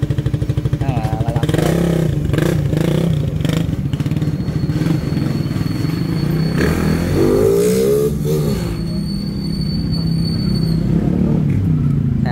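A Rusi Raider 150 FI motorcycle engine with a stock ECU idles loudly up close, then revs up and settles, with clattering mechanical noise throughout.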